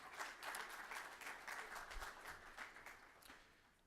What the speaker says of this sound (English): Please, big round of applause for Elizabeth